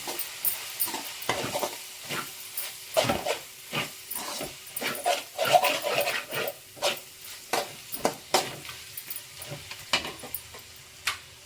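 A spoon stirs and scrapes ground coriander, garam masala and other spices through a sizzling frying pan while cooking paneer fried rice, producing steady clattering strokes over a soft background hiss with no talking.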